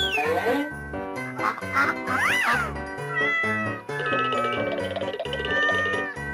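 A cat meows repeatedly in an escape room puzzle game, several loud, close, rising and falling meows over a backdrop of tonal game music.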